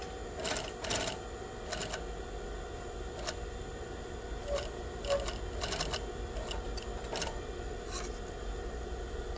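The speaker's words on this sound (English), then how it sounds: "We stitch off on our little piece of fabric." A sewing machine stitches bias trim onto a piece of fabric, giving a steady motor whir under short bursts of needle clatter, heard close and at moderate loudness.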